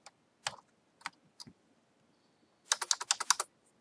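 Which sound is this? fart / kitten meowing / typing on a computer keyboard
typing on a computer keyboard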